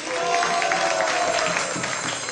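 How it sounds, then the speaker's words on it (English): An audience at a Nrsimha Caturdasi festival celebration applauds a children's presentation: dense, continuous clapping that fills the whole stretch at a fairly loud, even level. "So let's give them also a round of applause."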